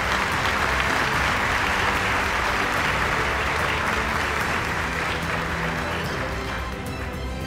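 Loud, sustained audience applause fills a graduation ceremony hall, a dense continuous clapping from a large crowd that holds steady and tapers slightly near the end.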